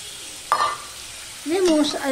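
A large tomato and six or seven green chillies hit a hot pan of cooked-down spice paste, a sharp sizzle bursting up, then a stretch of frying and a louder scraping stir near the end.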